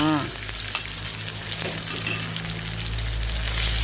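Minced pork frying with asparagus in a pan, a loud, close, constant sizzle with stirring, no voices.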